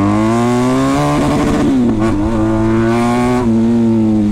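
A 1250cc motorcycle accelerates hard, its loud, close engine roaring and climbing in pitch, dipping briefly mid-run as it shifts, then pulling strongly again with no voices.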